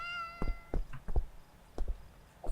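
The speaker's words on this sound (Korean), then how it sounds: "야옹" Cat meowing in a video game: a short tonal mew near the start, then several soft thumps and faint bursts at moderate distance, with no speech over it.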